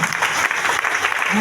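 A crowd at a mega public event in Latehar, Jharkhand, breaking into loud, dense applause, a continuous wash of many hands clapping at once.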